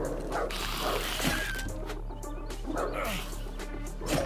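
Dogs bark and yip in the video game Dysmantle, short overlapping calls recurring through a steady layer of game ambience and music, with no talk over them.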